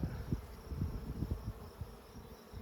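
Honeybees buzz at an open beehive in a steady low hum, with a few louder passes as individual bees fly near, close and without talk.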